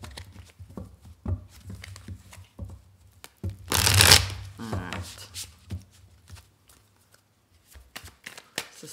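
Tarot cards riffled and shuffled by hand in a burst of crisp papery flutters with a loud flurry near the middle, surrounded by softer card handling and brief taps.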